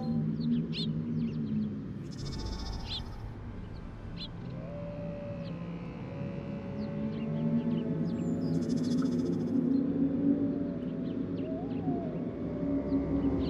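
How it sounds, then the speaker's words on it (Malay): A wolf pack in the Bulgarian wilderness sends up a chorus of howls: several long, wavering tones overlap and drift against a steady background hum, with occasional bird-like chirps and no voices. "Tiada haiwan yang tidak gentar mendengar korus seruan dari sekumpulan serigala."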